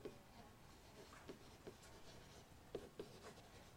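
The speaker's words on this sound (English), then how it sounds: "we'll write this down" Pen or pencil writes out math notes for an algebra example, very faint close scratching with occasional light taps, quiet and alone.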